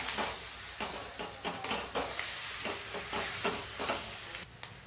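Capsicum cooking in a pan, stirred with a spoon in a run of quick scrapes over a constant bright sizzle, close and fairly loud.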